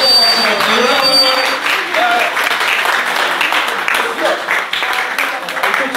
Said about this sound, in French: Applaudissements s'il vous plaît, on l'applaudit.